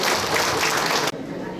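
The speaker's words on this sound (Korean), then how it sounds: "다시 한번 큰 박수로 축하해 주시기 부탁드리겠습니다" Loud, dense applause from a crowd, steady and close, cutting off abruptly partway through to a quieter room tone.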